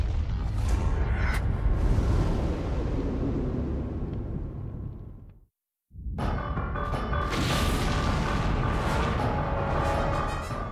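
A huge nuclear explosion rumbles as a deep, roaring blast, loud and sustained, in two long stretches split by a sudden moment of silence.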